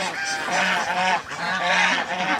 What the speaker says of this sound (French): il y a les oies de Guinée, il y a les oies de Toulouse, il y a les oies frisées